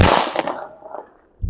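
A string of Diwali firecrackers going off as a sharp burst of loud cracks that quickly trails away, followed by a short pop at the end, heard outdoors.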